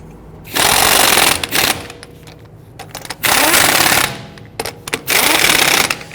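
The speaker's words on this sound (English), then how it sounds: "once we get them started, we'll go ahead and snug them down" Power impact tool snugging down wheel lug nuts on a 2010-2019 Ford Taurus, three loud buzzing bursts of about a second each with short gaps between, close up.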